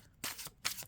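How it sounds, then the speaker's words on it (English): Tarot cards riffle-shuffled in two quick bursts, a crisp flutter of card stock with a short pause between, close and fairly quiet. "this is a really good shuffle."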